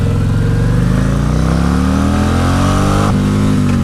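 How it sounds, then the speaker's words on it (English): A motorcycle with a stage 2 exhaust and high-flow air intake revs hard up to its rev limiter, engine note climbing steadily and loudly before cutting back sharply near the end. "Rev limiter."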